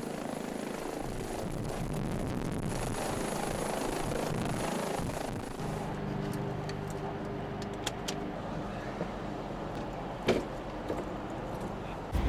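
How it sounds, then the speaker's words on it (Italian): The Pelican 2 rescue helicopter returning to base from a callout, its rotor and engine a steady loud roar that gradually eases, with a few sharp knocks and clatters toward the end. "L'elicottero di soccorso Pelican 2 rientra da un intervento."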